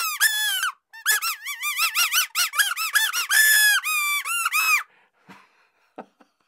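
A symmetrical two-piece whistle with a narrow gap between its halves is blown in quick squeaky toots, bright and harmonic, close and loud for about five seconds before a few faint clicks, no talking.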